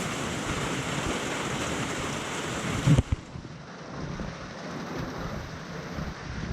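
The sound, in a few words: rainstorm with thunder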